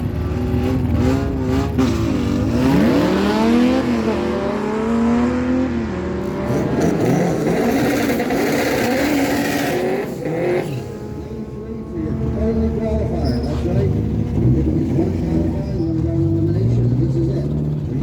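Drag racing cars, a Pontiac Firebird and a Honda Civic, roar loudly down the strip, engines revving and rising in pitch as they pass, with a track announcer talking over the noise throughout.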